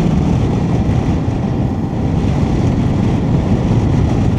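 Motorcycle engine pulling steadily in fourth gear on an open-road test ride, one of a CF Moto 450, Honda Transalp or Ducati DesertX, a continuous loud low drone mixed with wind rush, no speech.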